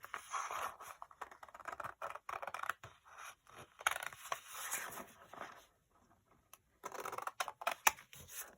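Scissors snip through paper for a handmade junk journal, a close run of crisp cuts and rustles with brief pauses, alone without talk.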